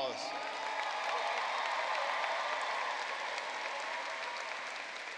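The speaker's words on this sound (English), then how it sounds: "I know that you will join me in giving these young people, the class of 2023, a round of applause" A graduation crowd applauds the Hampton High School class of 2023, with dense, sustained clapping and light cheering that fills the whole stretch at an even level.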